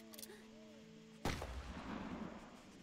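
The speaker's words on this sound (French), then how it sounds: "Pourquoi j'ai entendu un coup de feu?" A single sharp gunshot in the video game Endling, a sudden loud crack with a rough decaying tail that cuts off a soft tonal game music passage.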